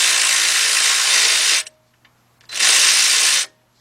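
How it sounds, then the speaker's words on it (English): A cordless power ratchet whirs in two sustained bursts, loud and close, separated by a short quiet pause, loosening a bolt on a Lexus LS460 upper control arm. "get you a cordless ratchet"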